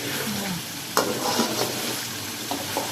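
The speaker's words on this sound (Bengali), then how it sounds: "ডুবো তেলে আগে আলু বাদামি করে ভেজে নিতে হবে" Potatoes deep-frying in oil, browning for a chicken korma, crackle and sizzle densely and close, with a few sharper pops and stirring clatters throughout.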